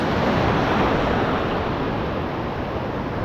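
Steady roar of ocean surf on a Philippine reef fishing spot, broad and close, with wind rushing over the microphone throughout.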